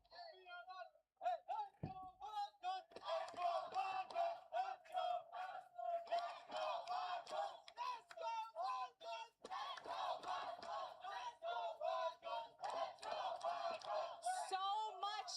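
Esports watch-party crowd at the Lenovo Legion Gauntlet, EWC, cheering and chanting continuously in a rhythmic, pulsing roar that fills the room, with scattered shouts throughout.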